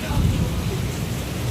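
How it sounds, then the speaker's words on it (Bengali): Heavy rain pours down steadily on a waterlogged road, a loud, dense roar with low rumbling underneath that holds constant throughout. "বিরাট বৃষ্টি হচ্ছে আজকে"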